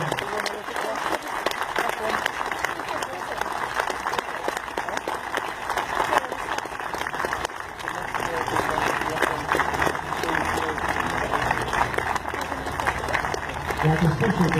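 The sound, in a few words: audience applause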